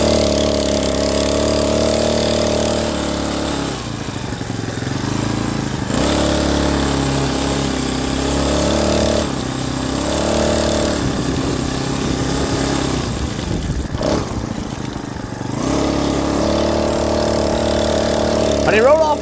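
A BikeBerry 49cc four-stroke motorized bicycle engine running steadily during a ride, a continuous mid-pitched drone that rises and dips slightly with throttle, with voices talking over it at times.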